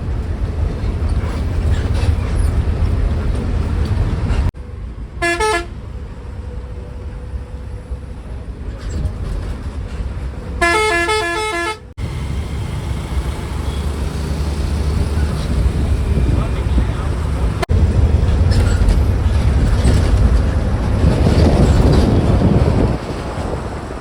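Heavy Delhi road traffic rumbles around a moving bus, with a steady engine and road drone and two short bursts of repeated horn honks.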